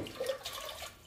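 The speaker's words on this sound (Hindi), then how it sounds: "तो उस पाइप को निकाला और पानी चालू करके देखिए" Water gushing steadily from a pipe pulled off an RO water purifier's pre-carbon filter, a close, continuous rushing splash with no talk.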